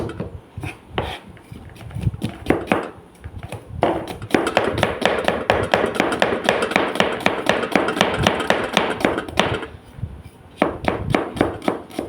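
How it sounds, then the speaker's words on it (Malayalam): Rapid, rhythmic knife chopping of onions on a cutting board, a fast continuous run of sharp taps with brief pauses, close and loud. "ഇങ്ങനെ എത്രയും സ്പീഡിൽ നിങ്ങൾക്ക് സവാള അരിയാൻ പറ്റുമോ?"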